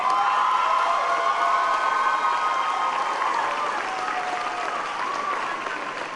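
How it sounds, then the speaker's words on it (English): Graduation audience at a high school ceremony gives sustained, dense applause, a steady crowd of hands clapping at full volume throughout with faint cheering mixed in. "Let's just give them another round of applause."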